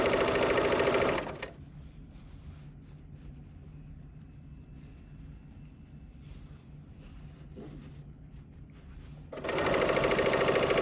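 An overlock machine stitching a narrow seam on a fabric tote bag whirs in fast, close bursts at the start and end, with a quiet pause of faint room noise between.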